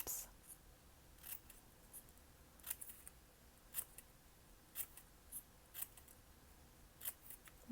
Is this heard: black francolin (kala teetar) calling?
no